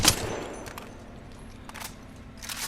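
Gunfire in Apex Legends while strafing left, a sharp close shot at the start followed by a steady low hum of game audio with a few softer bursts, fairly loud.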